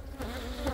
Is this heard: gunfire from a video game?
no